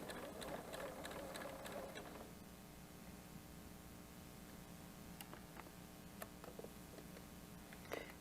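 A sewing machine stitches a water bottle cozy at a steady, even hum with light ticking, first faster and then slowing, heard alone and close.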